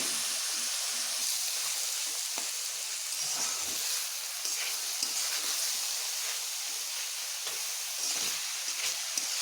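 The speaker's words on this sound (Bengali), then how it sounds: "মশলা দিয়ে মশলার সঙ্গে আমি এবার কচি এগুলোকে বেশ ভালোভাবে ভেজে নেব বা কষিয়ে নেব" Taro frying with spices in a pan, a soft, steady sizzle and hiss running throughout at moderate level with occasional small crackles.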